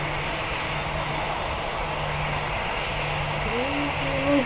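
An airplane engine drones steadily in a flight video game, a constant even hum with a faint rising tone near the end.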